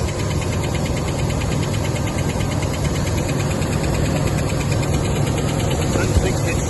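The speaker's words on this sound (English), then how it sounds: "You can hear that sort of tick, tick, tick." A Rolls Royce Silver Shadow engine idles loudly and steadily close by, with a faint repetitive ticking running under the continuous mechanical hum throughout.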